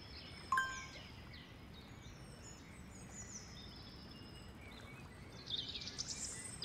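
Faint birdsong drifts through the peaceful game My Paper Boat: a single short chirp near the start, a long quiet stretch of soft ambience, then a light flurry of distant twittering toward the end.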